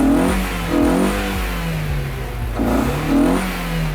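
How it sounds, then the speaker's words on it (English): A car engine revs repeatedly while a torch is held to the tailpipe to make it shoot flames, rising and falling in pitch in a few pulses, loud and close, with a steady idle rumble underneath. "we're just going to hold a torch to the tailpipe while we rev it"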